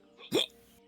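A single short, sharp sneeze from a person bursts out once, close and brief, with near silence before and after.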